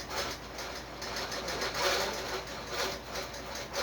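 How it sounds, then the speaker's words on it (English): Quilting machine running indoors, a fairly quiet steady mechanical whir with a rapid stitching rattle and slight pulsing, alone without talk. "I've got the quilt machine going."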